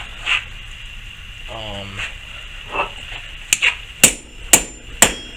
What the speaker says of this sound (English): I know I shouldn't be hammering on cold steel, but had to fix something.